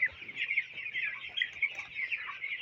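A flock of 18-day-old broiler chickens on a farm clucks and chirps continuously, a dense close chorus of overlapping calls with no talking.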